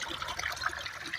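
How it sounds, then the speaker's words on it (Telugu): Water gushes fast from a motor pump in a farm field, a brief, close, splashing rush of flowing water. "వాటర్ ఎంత స్పీడ్గా వస్తున్నాయి మోటార్లో."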